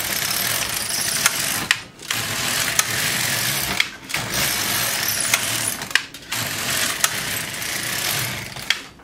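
Carriage of an LK150 knitting machine sliding back and forth across the needle bed to knit rows, giving loud, continuous mechanical whirring passes about two seconds long, separated by short pauses and sharp clicks at each turnaround.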